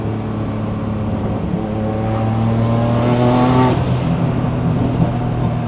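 A 500-horsepower turbocharged Honda NSX roars loudly from close range, its exhaust note holding a steady engine drone that climbs in pitch as the revs build, then eases back without any talking.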